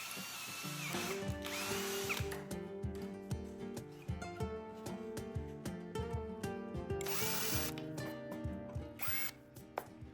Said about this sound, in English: we'll need to make a hole in this corner, neatly and precisely, 10 mm from the sides